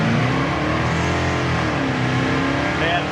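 A 1973 Chevrolet Nova with a small-block V8 revs hard through the gears, a loud, close, continuous engine roar that climbs and shifts pitch with each change, with no voices.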